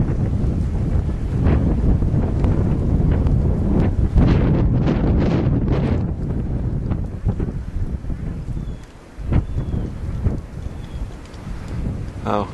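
Strong gusts of wind roar and buffet the microphone outdoors in West Warwick, Rhode Island, after the Blizzard of 2013, among deep snowdrifts, a loud rumbling wash that eases and surges over about twelve seconds.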